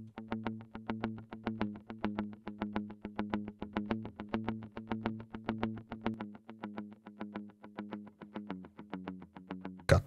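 A distorted electric guitar, unprocessed by the SSL channel apart from a low cut, plays a steady rhythmic pattern of short repeated chord stabs, quiet and even in level with no voices.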